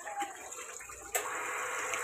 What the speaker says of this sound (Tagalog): nilalagyan pa natin tubig